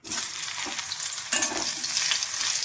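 Bitter gourd frying in mustard oil makes a loud, bright, continuous sizzle close by, swelling briefly as the pieces are turned.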